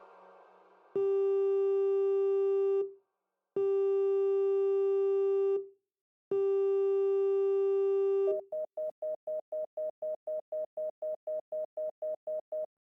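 Telephone ringing tone going unanswered: three long sustained buzzing rings with short gaps, followed by a rapid series of short repeated beeps, clear and loud with no voices.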